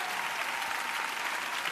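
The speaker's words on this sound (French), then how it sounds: "vous applaudissiez l'orchestre" A concert hall audience at a show applauds the orchestra, a thick, even wash of clapping from a large crowd that holds steady throughout.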